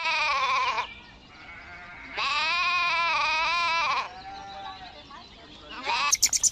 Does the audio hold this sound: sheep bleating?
yes